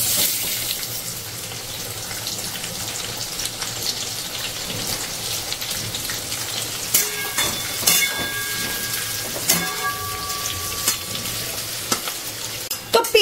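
Chopped onions frying in a pan give a continuous loud sizzle, while occasional clinks and scrapes from stirring sound up close toward the end.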